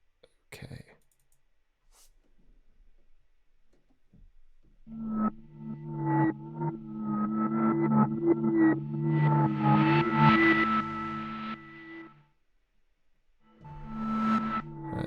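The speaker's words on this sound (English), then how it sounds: "reverse chaotic ARP with a reverse effect and fifth tones" A tape synth plays a reverse chaotic arpeggio with a reverse effect and fifth tones. After a quiet start, swelling backward notes rise into a dense, rippling run, stop abruptly, then return briefly.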